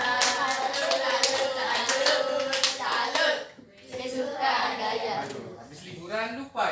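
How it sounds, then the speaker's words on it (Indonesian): A classroom of children performs a rhythmic salute clap routine, with sharp, evenly spaced hand claps in bursts, broken by a short pause and followed by children's voices chattering over more claps. "Kita beri salut. Tepuk salut."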